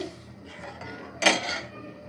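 A utensil stirs milk into peanut tea in a metal pot, with faint scraping and one sharp clank against the side partway through.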